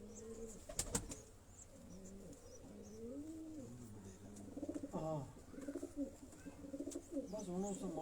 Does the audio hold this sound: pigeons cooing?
yes